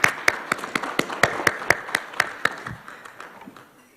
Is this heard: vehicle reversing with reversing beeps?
no